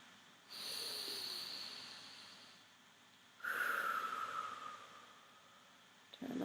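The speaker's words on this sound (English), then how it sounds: "Breathe." Two slow, deep breaths during a yoga class, a long airy exhale followed after a pause by a stronger, close breath, soft and hissing in a quiet room.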